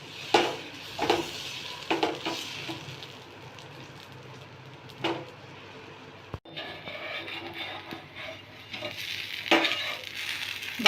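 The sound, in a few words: ragi (nachni) dosa roasting on a hot pan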